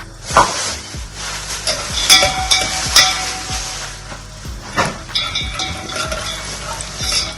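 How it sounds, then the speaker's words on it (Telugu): Dry fruits fry in ghee in a pan as a spoon stirs and scrapes, with repeated metallic clinks and knocks over a soft steady sizzle, close and fairly loud. "ఫస్ట్ డ్రై ఫ్రూట్స్ అన్ని ఫ్రై చేసుకుందాం"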